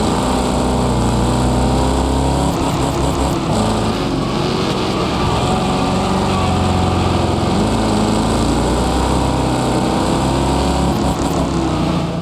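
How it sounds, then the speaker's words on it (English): V6 Chevrolet Cavalier Striker engine in the Wreckfest 2 racing game, a deep, throaty growl that runs steadily with rising and falling revs, loud and close throughout with no talking. "the new Striker, the V6 Chevrolet Cavalier. Wow, the sound is just guttural. It's just deep and throaty and magnificent."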